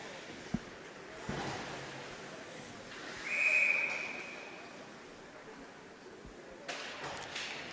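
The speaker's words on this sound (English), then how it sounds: "that will be yet another whistle for an offside" A referee's whistle blows for an offside in a youth U15 ice hockey game in a rink, heard as one sustained shrill blast in the middle, moderately loud over steady crowd and arena ambience.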